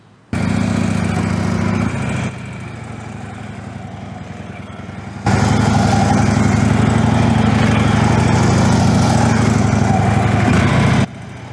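A motorcycle engine runs steadily close by during a low-speed straight-line cone weave, its buzzing drone stepping up and down in loudness as the throttle is rolled on and off through the cones.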